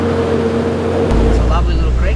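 A 4WD pushes through a flowing creek crossing in the Victorian High Country, engine droning steadily close by with water swishing and splashing as it rolls through.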